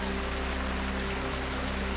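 Heavy monsoon rain pours steadily in the Konkan region near Chiplun, Maharashtra, a dense, unbroken wash of downpour that stays constant throughout, with a faint low hum underneath.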